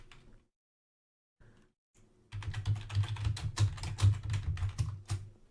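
Someone types on a computer keyboard in a quiet room, a brief burst of rapid, close key clicks after a few seconds of near silence, with no talking.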